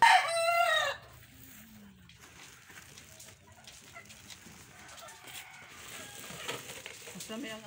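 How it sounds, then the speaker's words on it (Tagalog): A rooster gives one loud, close crow at the very start, then a farmyard settles into faint, scattered chicken clucks and low background noise. "Ito'y sabay-sabay yung manok."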